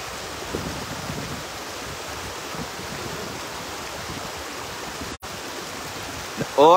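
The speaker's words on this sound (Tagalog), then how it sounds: "Lagaslas ng tubig." Rushing water of a stream in Taiwan fills the clip as a loud, close, steady hiss and gurgle, briefly cutting out near the end before resuming.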